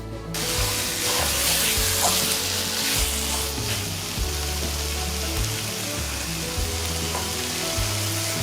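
Lamb shank curry cooking hard on high heat: a loud, continuous close sizzle and bubbling fills the whole stretch, with a low rhythmic hum underneath and no voices.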